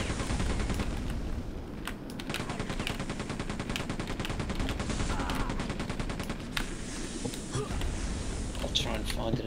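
BFG weapon fire and other gunfire in Quake 2, loud rapid bursts of repeated shots with some heavier blasts, layered over steady game noise without a break.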